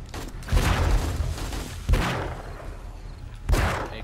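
AK rifle fire in the survival game 7 Days to Die: three separate bursts of shots, each with a heavy boom and long fading tail, loud and close.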